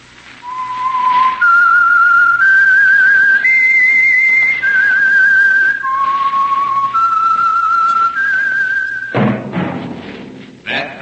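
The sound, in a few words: whistled theme signal of The Whistler radio show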